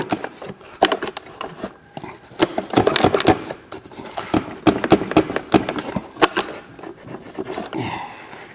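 A vehicle's air box is worked loose and wiggled free by hand, giving a busy run of hard plastic knocks, scrapes and rattles with a few sharp clacks, close and fairly loud, with no talking.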